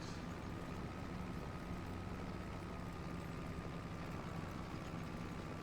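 A 2004 tractor engine runs steadily in a continuous low drone, close and loud, holding an even pitch throughout with no speech.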